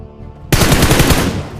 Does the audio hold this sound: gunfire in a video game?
yes